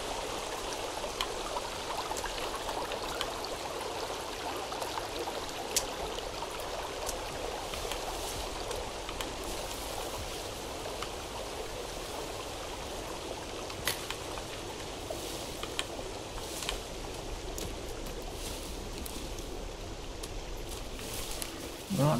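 Water in a forest stream flows steadily in the survival game Sons of the Forest, a soft continuous burbling and trickling wash that stays even and moderately faint throughout, with no talk.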